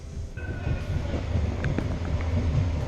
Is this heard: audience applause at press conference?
no